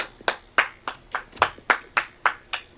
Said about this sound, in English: Let me just clap it up, bro.